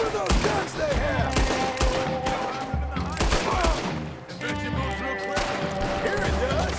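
Dense gunfire in the Red Dead Redemption 2 video game, rapid overlapping shots and bursts throughout at close range, with voices talking over the shooting.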